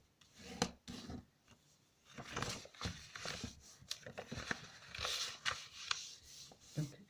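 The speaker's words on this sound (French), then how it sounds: "Et maintenant, je vais marquer mes plis partout." Paper being creased along fold lines for a handmade spring pocket mini album, giving repeated rubbing and rasping scrapes in short close bursts, with quiet gaps between strokes.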